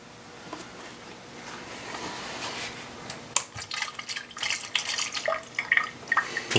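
Mixed coolant is poured steadily from a gallon container into a BMW 2004 325xi engine, splashing and gurgling unevenly and growing louder toward the end, close by with no speech.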